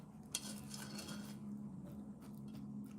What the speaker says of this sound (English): But you keep stirring this like every 30 seconds.